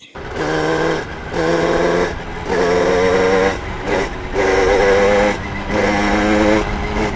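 A 140cc twin-engine motorized bicycle geared with a 32T sprocket runs nearby, its buzzing small two-stroke engines revving in repeated surges and easing off between them.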